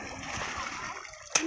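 Water splashes as people catch fish in a drying pond, with steady sloshing and background voices throughout and one sharper splash near the end, heard from a short distance.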